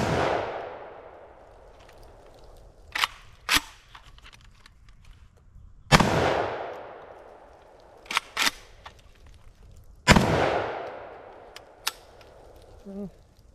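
A K-USA Komrad 12 shotgun fires number 9 birdshot on its lowest gas setting: three loud, sharp blasts a few seconds apart, each ringing out and fading. Quieter mechanical clacks and clicks fall between the shots.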